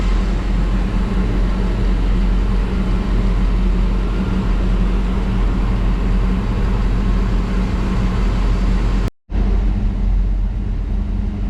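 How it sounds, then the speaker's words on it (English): An RV engine warms up at idle, a steady low rumble heard close and continuous, with a brief cut in the sound near the end. "Alright, it's getting warmed up now for just idling."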